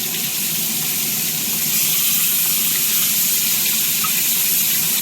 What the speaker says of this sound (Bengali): আর এখানে মাছ ভাজা হবে